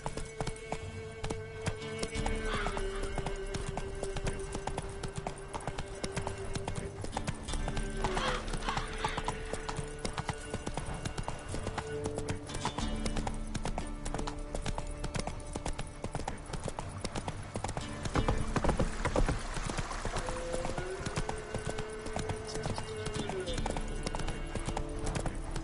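Roach, a horse in The Witcher 3, gallops with rapid, steady hoofbeats throughout, along with occasional neighs and game music and voices underneath.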